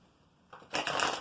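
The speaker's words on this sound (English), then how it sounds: "3 more shuffles, a cut and draw." A deck of tarot cards is shuffled in a brief, close riffle that starts softly and swells into a dense, crisp flutter of cards, with no voices.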